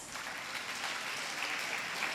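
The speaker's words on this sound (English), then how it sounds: "Let us give all achievers a big round of applause." A brief, soft round of applause from an audience at a PU college students council inauguration and freshers day, clapping for student achievers, steady and somewhat distant throughout.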